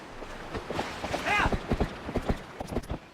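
Horse hooves clip-clop in The Legend of Zelda: Twilight Princess in a steady, close, even rhythm, with a brief whinny partway through.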